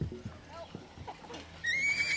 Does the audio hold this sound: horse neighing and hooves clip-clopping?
yes